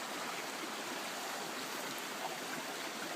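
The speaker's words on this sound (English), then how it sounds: "This one's a better sized river." A river in a winter forest gives off a steady broadband rush of flowing water, even and continuous, with no voices or other distinct sounds.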